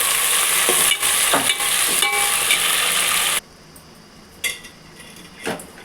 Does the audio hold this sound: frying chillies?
yes